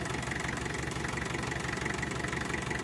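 A new Bharat tractor's engine idles before ploughing, a close, steady low diesel rumble with a regular knocking pulse and no talking.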